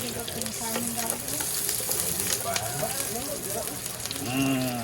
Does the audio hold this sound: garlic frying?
yes